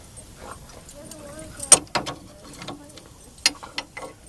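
A ratchet clicks in short bursts while a tie rod jam nut is tightened on a 2000 Ford Expedition, with metallic taps and tool rattles close by and a voice faintly in the background.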